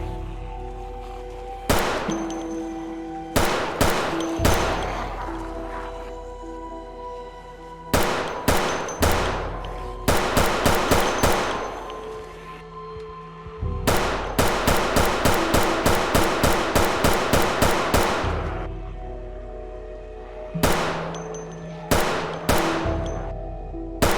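A .22 gun firing in Project Zomboid, loud sharp shots in clusters and rapid strings, single reports and quick volleys separated by short pauses, each with a brief ringing decay, with no voices.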